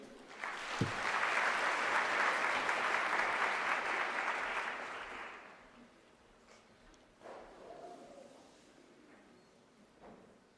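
Applause for Professor Mutlwadi at a UNISA graduation ceremony: a loud, dense burst of clapping for about five seconds that fades out, followed by a few scattered claps and faint room noise.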